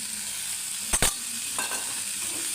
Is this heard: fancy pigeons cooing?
no